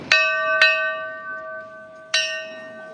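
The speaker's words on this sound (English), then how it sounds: "To pick it up, they'll hit the bell twice." A bell rings out to signal the bearers of a 5-ton religious festival float: three bright metallic strikes, two close together and one later, each ringing on with a long sustained tone, loud and near.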